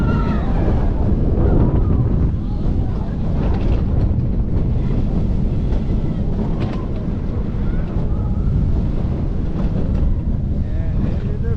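Manta, a multi-launch roller coaster at SeaWorld San Diego, recorded on board as a continuous loud rush of wind buffeting and track rumble throughout, with a rider's voice occasionally breaking through.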